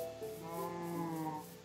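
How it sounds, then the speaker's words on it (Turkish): A Minecraft sheep gives a single drawn-out, wavering bleat, up close and fairly clear over a faint game background. "Arkadaşlar oyundaki koyun sayısı arttı mı?"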